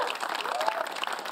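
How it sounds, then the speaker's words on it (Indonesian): A studio audience on a TV show gives a short, fairly faint burst of applause, with a voice over the clapping. "Sekali lagi tepuk tangan dong untuk Ida Fikria."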